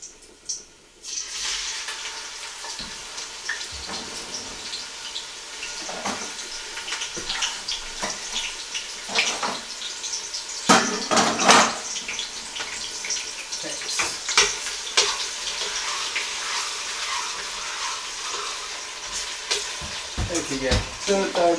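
Onions sizzle and fry in a pot over medium heat while haleem is being cooked, a steady crackling hiss that runs the whole time with bursts of stirring and louder spitting in the middle.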